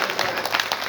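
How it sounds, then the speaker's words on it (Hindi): Audience applause at a Meghwans community gathering honouring workers at the Ramdev temple in Pushkar, a dense steady patter of many hands clapping, fairly loud and continuous throughout. "जोरदार तालियों से स्वागत करें, पुनः जोरदार तालियों से स्वागत।"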